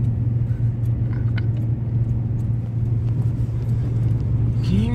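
A car driving along a road in fog, a steady engine rumble and road noise droning close inside the cabin without a break.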